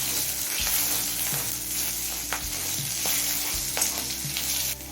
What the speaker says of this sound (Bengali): কালো জিরে আর লঙ্কা মিনিট খানিক ভেজে নিয়েছি